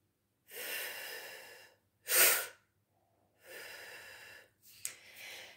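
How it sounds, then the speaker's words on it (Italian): Quick inhalations demonstrate costal-diaphragmatic breathing: several sharp, loud breaths drawn in close to the microphone, separated by silent pauses, with no talking. "Potete anche fare una sorta di aspirazione veloce per sentire il movimento."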